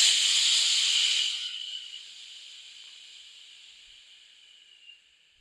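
A long, airy hiss of breath during an emotion-focused breathing exercise, loud at first, then softening into a quieter, steady draw of air in through the nose before fading out.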